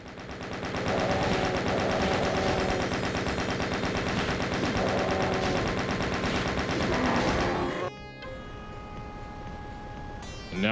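Chaingun in DOOM (1993) firing in a long rapid burst, a dense rattling stream of shots for about eight seconds that cuts off abruptly, leaving quieter game ambience.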